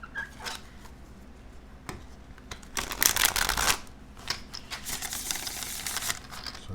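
Tarot cards are shuffled with soft papery riffling and flicking, quiet at first and then building into a louder burst of rapid card rustle midway, with no talking.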